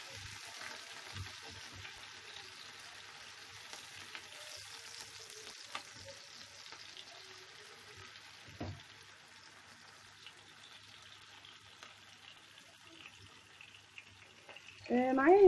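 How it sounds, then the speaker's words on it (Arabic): Peppers stir-fried in a pan for a liver and gizzard dish give a faint, steady sizzle with scattered soft clatters and stirring knocks, ending in a louder burst of noise near the end. "هدي الفلفل تشويحة بس"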